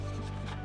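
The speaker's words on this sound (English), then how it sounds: "We're roughing up the surface, making it ready for the next phase." Abrasive roughing of a freshly welded steel body panel on a rust-damaged Mazda Miata being rebuilt, a steady close-up grinding rasp that runs unbroken and alone.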